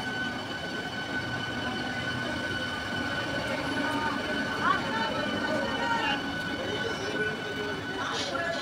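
A Panskura EMU local train pulls out of Ramrajatala station on the Howrah division, its wheels rumbling steadily with faint squeals and a high electric whine, heard from on board at moderate level.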